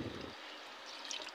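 Water pours from a vessel into a pot of rice and chicken for chicken biryani, a faint soft trickle and splash heard alone at low volume.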